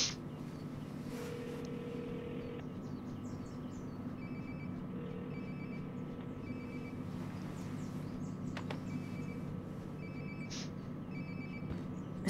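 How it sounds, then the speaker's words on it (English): A mobile phone rings inside the video game Life is Strange: Before the Storm, repeated short tonal trills over a steady low background hum, moderately faint and with no talking. "Sounds like my phone is definitely nearby."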